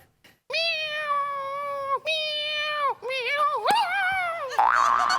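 A performer on a comedy stage imitates a cat with a voice, giving three long, wavering meows in a row, then a shorter, warbling one that breaks into a noisy burst at the end.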